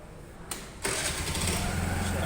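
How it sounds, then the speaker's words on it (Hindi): A TVS Jupiter BS6 scooter in a showroom in Puri cranks with a brief click and then catches, settling straight into a steady, close idle hum. "गाड़ी स्टार्ट हो गया है"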